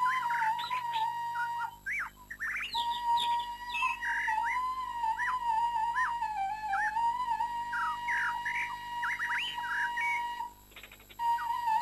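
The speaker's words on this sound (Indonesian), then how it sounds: "suara nyanyian burung-burung berkicau" Birds chirp and sing under shady trees in Taman Alam Rimba Huta Sikafir nature park, Rokan Hulu, with a steady whistling tone and varied, twittering calls continuing throughout, moderately near and without voices.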